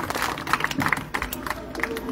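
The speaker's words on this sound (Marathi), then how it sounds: "सर्वांनी जोरदार टाळ्या वाजवायच्या आहेत।" Crowd clapping at a Bharat Mukti Morcha and Buddhist International Network public gathering: scattered, uneven applause with crowd noise, moderately loud for about two seconds.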